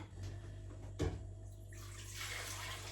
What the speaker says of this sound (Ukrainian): Виливаю воду.